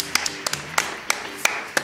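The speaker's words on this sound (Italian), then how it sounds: "facciamolo questo applauso" Scattered hand claps, about nine sharp separate claps in under two seconds, close and fairly loud with uneven spacing, alone without talk.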